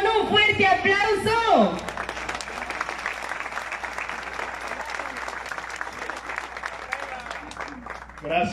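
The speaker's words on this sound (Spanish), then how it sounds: "Recibamos con un fuerte aplauso." A loud announcer's voice gives way to sustained applause from an audience at a municipal coordinator's swearing-in ceremony, dense clapping that carries on steadily for several seconds.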